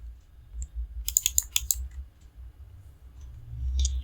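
Someone types a short burst of text on a computer keyboard into a Microsoft Word find field. About eight quick, crisp keystrokes cluster in the middle over a low background hum, followed by a single click.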